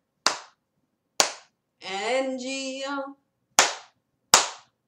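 Children clap their hands twice in a row, pause while singing a sung phrase, then clap twice more, sharp and close, in a Bingo song game where claps replace letters.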